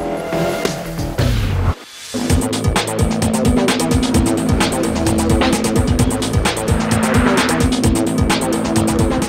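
Cars driving on ice and snow during winter tire testing with Continental premium studded tires, loud steady engine and tire noise with repeated squeals and skids, a brief drop near two seconds, no talk.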